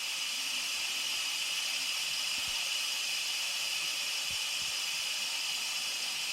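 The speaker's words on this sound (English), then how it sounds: "Letting the pressure out," An Instant Pot venting steam pressure after a pressure-cook cycle, giving a loud continuous hiss that stays steady and close throughout, with a few faint low knocks.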